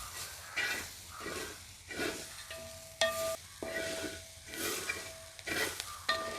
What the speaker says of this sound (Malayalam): ഇതിനി നല്ലപോലെ നമുക്കൊന്ന് വറുത്തെടുക്കാം